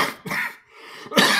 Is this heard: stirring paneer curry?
no